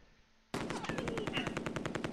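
A .50 caliber machine gun in the Close Combat II video game fires one loud, rapid, continuous burst that starts abruptly after a quiet moment.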